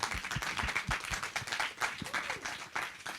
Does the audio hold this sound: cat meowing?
no